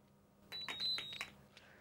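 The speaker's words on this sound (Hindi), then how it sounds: "टीम जेवियर एकदम बजर पे एकदम फुर्ती से बटन दबाते हैं" During a Hindi quiz round, a contestant team presses the buzzer: a short electronic beep lasting under a second rises abruptly from a quiet room, then fades.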